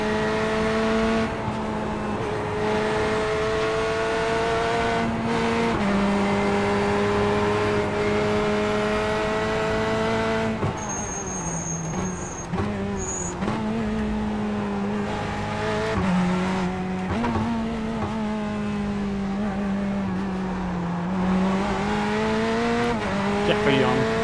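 A race car laps Willow Springs International Raceway in iRacing, its engine droning steadily and rising and falling through gear changes, with brief tire squeal through the corners, loud and continuous throughout.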